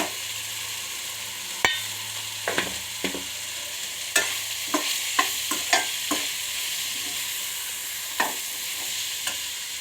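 Carrot and bean stir-fry with peanut powder being stirred in a pan, a spoon scraping and clacking in a dozen irregular strokes over a soft steady sizzle, close and alone with no talk.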